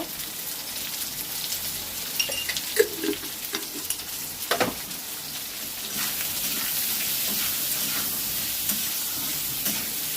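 Cut potatoes fry in a pan for a thin katla fish curry with taro, giving a steady close sizzle with scattered stirring scrapes and clicks, the hiss broadening and evening out in the second half.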